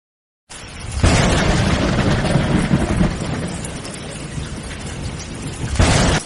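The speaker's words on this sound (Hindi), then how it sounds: "बारिश अब भी हो रही है" Heavy rain from a storm pours in a dense, loud, continuous wash after a brief silent start, with rumbling low swells and a surge near the end.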